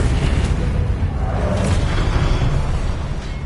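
An explosive spell blast in the game Hogwarts Legacy, a loud, rumbling burst of booming noise that fills the whole moment with heavy, sustained low-end roar and no clear pauses.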